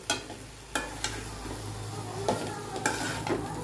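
Lemons for pickle sizzle and fry in hot oil, with a steady crackling hiss and a few sharp stirring clatters of a spoon against the pan, close by and with no talk.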